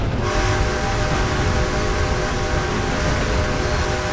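A steam train whistle blows during a train ride in the video game Red Dead Online, sounding as a steady, sustained tone over constant rumbling rail noise with no talk.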